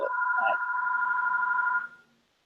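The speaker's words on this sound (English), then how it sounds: "The phone is ringing." A telephone rings with a steady electronic two-tone trill lasting nearly two seconds, loud and close, then cuts off, with a brief voice fragment near the start.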